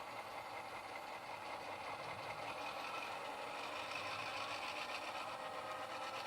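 A model railway locomotive runs under throttle, giving off a faint, steady mechanical whir and hum that holds at an even level throughout, with no speech.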